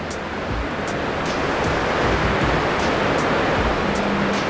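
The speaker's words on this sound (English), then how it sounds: "So these are relatively steep waves." Relatively steep waves generated in a scale model test tank for an ocean cleanup barrier wash continuously as a loud, broadband rushing noise with faint periodic ticks and no voices.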